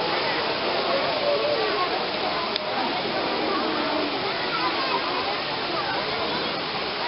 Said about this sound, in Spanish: Estamos aquí en la cascada de David, aquí en Engedi.